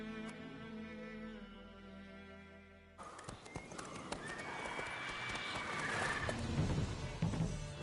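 Roach the horse in The Witcher video game, with galloping hoofbeats and a whinny rising over busy in-game ambience after a sudden cut from a quieter music-filled scene.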